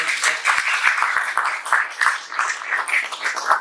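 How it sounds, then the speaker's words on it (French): A church congregation breaks into sustained applause, a dense wash of clapping with a few sharper claps standing out, steady and fairly close throughout. "On peut l'applaudir"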